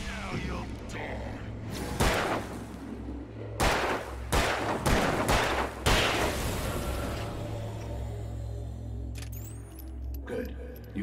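Gunshots ring out in Alan Wake, a handful of loud sharp reports spaced a second or so apart over a low ambient drone, with a voice speaking at times.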